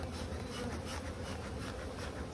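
Honey bees buzz in a dense, continuous hum during a hive inspection of a strong, full hive, heard close and alone without voices.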